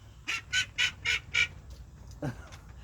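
A duck quacks five times in quick rhythmic succession, loud and close, then gives a single lower quack after a pause, over quiet background hum.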